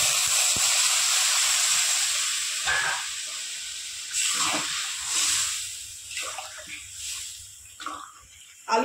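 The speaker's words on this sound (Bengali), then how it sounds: "এবার দিয়ে দেবো পরিমাণ মতো জল।" Water poured into a hot pan of fried spices for a rohu fish and small potato curry sets off a loud, close, rushing hiss of steam that fades and flares in bursts.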